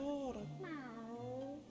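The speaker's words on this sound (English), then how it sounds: "Oh, hello, giant kitty. Welcome, meow." Giant cat in Cult of the Lamb giving a short, close meow with a rising and falling pitch, overlapping speech.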